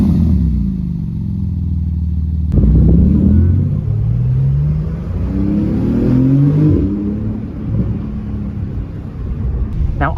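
A Porsche GT2 RS engine pulls away and accelerates through the gears on Toronto streets, with a loud, close, deep rumble and rising revs that climb and drop repeatedly.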